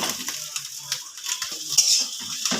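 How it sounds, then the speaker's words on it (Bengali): Spatula stirring and breaking up egg in a hot pan with vegetables for egg chowmein, a soft steady sizzle broken by light scraping strokes, close and continuous with no talking. "খুন্তি দিয়ে এবার ডিমটাকে ঝুড়ো ঝুড়ো করে নেব।"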